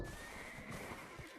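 A horse whinnies in a video game, a faint, drawn-out neigh set against a steady wash of background noise.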